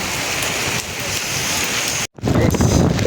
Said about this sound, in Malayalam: നല്ല തകർപ്പം മഴ